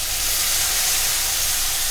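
A paste of garlic and dried chilli hits a hot pan and sizzles as a loud, dense, steady hiss throughout.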